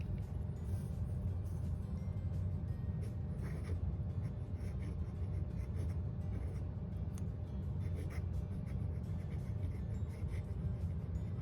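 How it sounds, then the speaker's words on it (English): A Pilot Vanishing Point fountain pen with a fine nib writes on paper, making faint, soft scratching strokes against a constant low background rumble, with no talking. "while we are writing, I'd like to also show the Pilot Vanishing Point"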